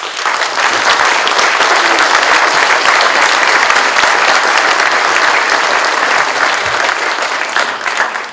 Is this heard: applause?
yes